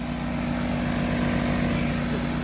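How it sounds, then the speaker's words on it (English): An air compressor powered by a generator at a farmhouse construction site runs nonstop with a loud, steady, pulsing engine drone and throbbing low rumble, close by, with no voices. "We're running a generator to run our compressor."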